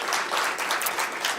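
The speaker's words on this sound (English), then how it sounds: "round of applause," Audience applause at a formal report launch, a short burst of many hands clapping at moderate volume that fades slightly toward the end.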